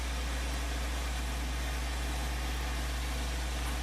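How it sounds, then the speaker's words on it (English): A tractor engine drones steadily while driving in Farming Simulator 2013, a constant low hum with no change in pitch, fairly faint and alone. "Come on, tractor, go faster."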